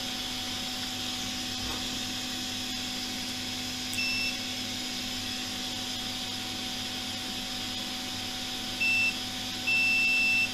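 A multimeter beeping during a continuity check on an iPhone X board, short high electronic tones sounding three times against a steady electrical hum, the last beep held for about a second.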